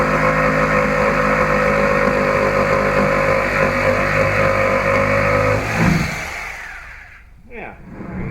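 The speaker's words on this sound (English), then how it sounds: "And for this cut, I'm going to use the jigsaw. And it's a little hard cutting this 2x material," A jigsaw cuts through 2x lumber with a steady, loud, buzzing motor rasp for about six seconds, then stops abruptly and leaves faint, brief residual noises.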